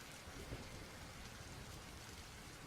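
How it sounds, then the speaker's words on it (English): Heavy rain pours steadily with wind gusting through it, a dense, continuous wash of sound at moderate level with no voices, holding evenly throughout. "the wind continues to pick up as this rain just starts to come down harder and harder"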